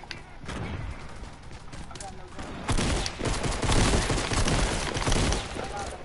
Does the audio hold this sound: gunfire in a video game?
yes